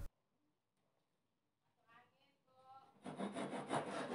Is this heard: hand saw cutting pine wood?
yes